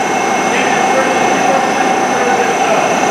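A ship's engine hums and drones steadily in a bow thruster room, a loud, constant mechanical roar with a sustained tonal whine, unbroken for the whole stretch.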